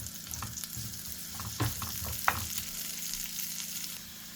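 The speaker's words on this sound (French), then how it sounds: "on rajoute une noisette de beurre et un peu d'huile de tournesol et on va venir faire suer notre" Onion sweating in a pan with a knob of butter and sunflower oil, giving a continuous close sizzle with a few soft utensil clicks and stirs, alone without any voices.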